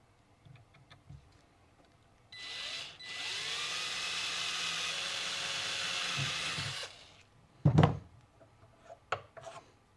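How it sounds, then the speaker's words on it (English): A small 12-volt cordless drill whirs steadily for about four seconds drilling metal, then winds down, followed by a few clunks and scraping sounds of handling metal. "This is just a nice small 12-volt drill,"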